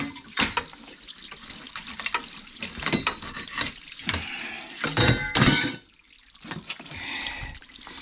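Water drains from a gas boiler's coil and splashes into a tray below, a continuous rushing trickle that briefly swells before easing off, close up with no talk.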